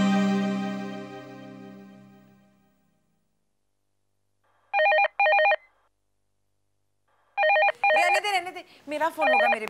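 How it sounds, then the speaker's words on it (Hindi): A telephone rings in a TV drama scene, two short bursts of electronic trilling, the first alone after a fading music tail and the second followed at once by a voice speaking. "मेरा फोन होगा मेरे बेटे का।"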